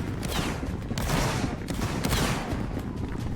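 Rapid overlapping gunfire from several players in a team battle game, a dense continuous fusillade of shots close to the microphone.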